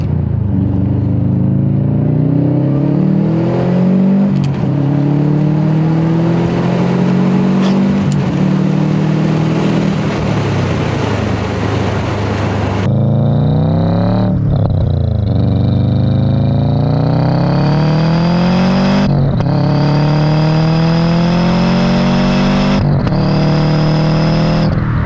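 A turbocharged car engine revs hard at full throttle, rising and falling in repeated sweeps with a high turbo whistle riding over the loud, close engine roar for the whole stretch.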